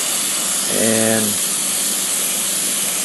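Spray can of white paint hissing onto a Tau vehicle model for winter camouflage, a steady close hiss through the whole stretch, with a brief low hum and a spoken word near the start.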